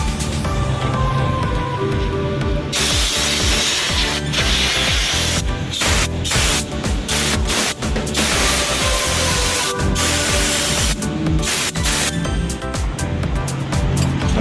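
A loud, steady hiss of compressed air blasts, broken by brief pauses, with faint clattering underneath.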